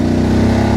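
A motorcycle engine running with its exhaust on setting B, a steady close, loud low rumble with even pulsing and no talk over it.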